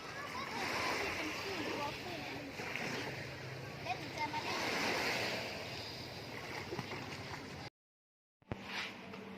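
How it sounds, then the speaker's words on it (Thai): Sea waves wash onto Pattaya beach in Thailand as a steady rushing surf, with wind buffeting the microphone and voices talking nearby; the sound briefly cuts out near the end. "อันนี้ที่เป็นคลื่นมันอยู่ประมาณนี้"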